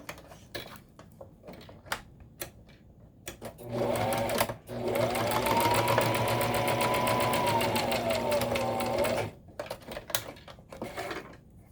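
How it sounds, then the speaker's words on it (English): A sewing machine stitches darts in fabric, running steadily for about five seconds in the middle with a rising and falling motor whine, framed by quieter handling clicks before and after. "I'm sewing right in this fold."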